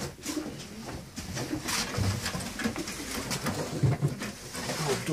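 Close pigeons of a rare breed cooing in low repeated calls, mixed with thin high squeaks from a young December-hatched squab, in an indoor loft.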